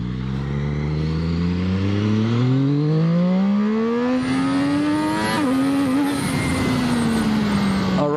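A Zxmoto 820RR motorcycle engine pulls strongly during a U-turn, its pitch climbing steadily through the gears with a brief dip mid-way, then holding a loud, steady drone to the end.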